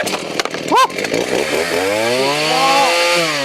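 A retro Husqvarna 40 chainsaw runs close by, with a few sharp revs early on that settle into a steady, loud buzzing idle with a rising, wavering engine pitch.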